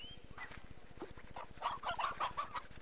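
Chicken clucking in the Slime Rancher video game, a run of short bright clucks over a steady rhythmic background pulse, moderately loud and growing busier toward the end.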